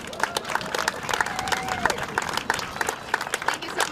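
A crowd at a Boston park ribbon-cutting claps and applauds to welcome Mayor Michelle Wu, a steady patter of many hands at moderate distance, with a voice briefly rising over the clapping.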